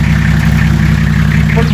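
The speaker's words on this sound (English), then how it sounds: "you hear the sound of the car, the machine" A car engine idles steadily with a deep, rumbling drone and constant vibration, loud and close, without pauses.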